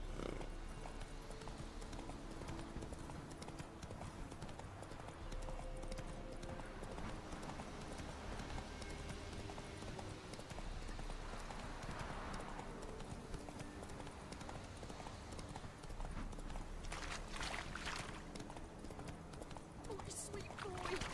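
A horse galloping in The Witcher 3 video game, steady rhythmic clip-clop of hooves running continuously under dialogue and background music, with characters speaking over it throughout.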